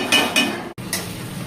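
Utensils clinking against a dish while crab curry ingredients are mixed at home, with a few distinct metallic clinks and scrapes near and fairly loud, a short pause midway, and no talking.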